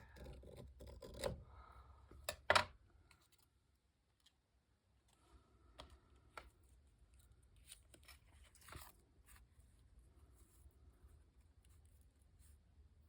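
Scissors snipping out a paper snowflake tag, a few crisp close cuts early, then quieter scattered snips and rustles of paper against a very hushed background, no speech.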